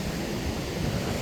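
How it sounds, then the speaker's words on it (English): Wind and breaking surf at Rosarito Beach, Mexico, on a warm day with winds around 20 miles an hour, a steady, full roar of waves and gusts. "Water's warm, windy, pretty windy, like 20-mile-an-hour winds."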